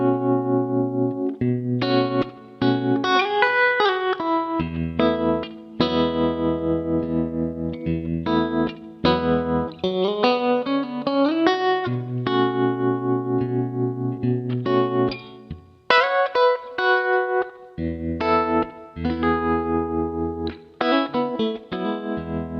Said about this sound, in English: This is a clean tremolo patch, so it's got a tremolo effect on it with some reverb and delay.